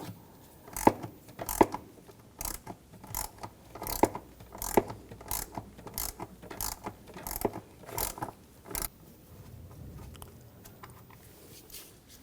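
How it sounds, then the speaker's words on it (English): A ratchet with a T25 socket clicks in short, evenly spaced strokes while removing the mass airflow sensor screws on a 2009-2013 BMW 328i xDrive, close and fairly quiet, tapering off near the end. "I'm going to use a T25 socket. Take these two screws out."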